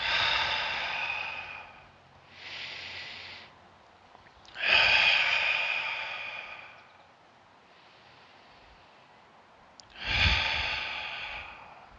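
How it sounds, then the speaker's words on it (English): Slow, deep breathing during a guided meditation, long airy inhales and exhales alternating with quiet pauses, close and clear with no talk. "A few more breaths."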